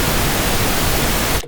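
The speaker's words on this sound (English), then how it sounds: "pink noise is maximum intensity sound" Loud, steady broadband pink noise test signal encoded with Vorbis at 100% quality plays for over a second, then cuts off abruptly into near silence.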